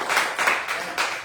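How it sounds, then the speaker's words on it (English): Audience clapping at a community meeting, a short thin round of applause with a few distinct pulses, fairly close. "let's give her a round of applause"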